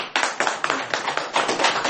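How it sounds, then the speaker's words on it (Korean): A seated audience breaks into brief, brisk applause after a talk on election law, many hands clapping together for about two seconds. "아유, 박수."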